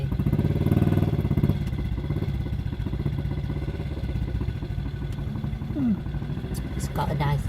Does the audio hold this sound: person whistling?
no